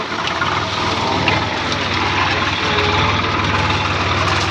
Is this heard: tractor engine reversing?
yes